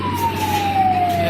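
A fire truck siren wails at a motor shop fire, one long steady tone slowly falling in pitch as the truck arrives, loud over a low engine rumble.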